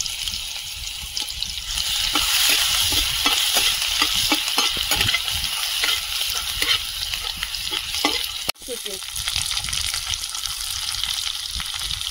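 Five-spice and crushed garlic frying in hot oil left from frying fish, a steady close sizzle with continuous stirring scrapes that runs for the whole stretch, briefly broken by a sharp click.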